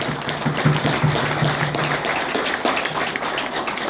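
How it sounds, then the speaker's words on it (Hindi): Audience applause at an indoor talk on bio-magnets in Delhi, a dense, moderately loud patter of many hands clapping together, steady for a few seconds. "एक बार जोरदार ताली बजाइए"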